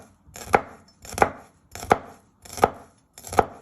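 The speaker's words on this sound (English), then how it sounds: "you just want to chop it into little pieces." A knife chops garlic into little pieces on a board, five evenly spaced sharp chops, close and clear, with no talk.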